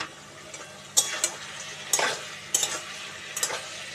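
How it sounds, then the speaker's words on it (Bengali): Fried lentil dumplings (bori) being stirred in a pan for a bottle gourd ghonto, with soft sizzling under several sharp spoon-against-pan scrapes and clinks spaced about half a second to a second apart, quiet and close, without speech. "বড়িগুলো নাড়িয়ে চাড়িয়ে"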